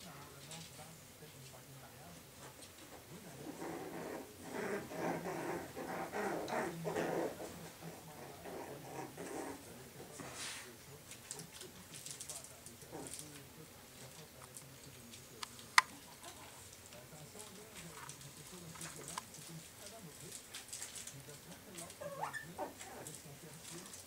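Five-week-old puppies growl and grunt softly close by, in short bursts, while someone talks over them.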